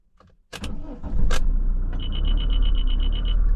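An old car engine cranks in short bursts, then catches and settles into a loud, steady running drone with a repeating high whine above it, close by.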